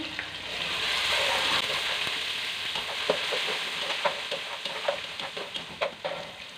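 Onions fry steadily with cumin in a hot pan, a bright crackling hiss with occasional sharper pops and stirring clicks toward the end.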